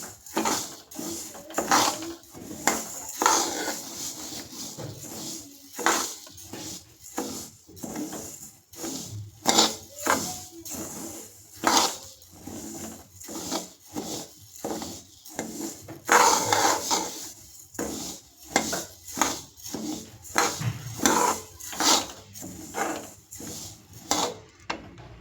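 Moong dal is dry-roasted in a pan and stirred continuously with a spatula, giving repeated scraping and rustling strokes in an irregular rhythm, close up and with no talking.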